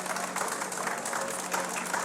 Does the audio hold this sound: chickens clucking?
no